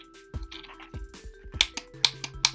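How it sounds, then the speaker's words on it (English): A solenoid fitted to a glove project clicks repeatedly, giving a string of sharp, close, light taps in an irregular rhythm against a quiet background. "Solenoid should be heard clicking."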